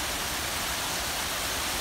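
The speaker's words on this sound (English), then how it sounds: "There's a waterfall" An indoor waterfall in an atrium pours steadily, a dense, even rush of falling water with no voices over it.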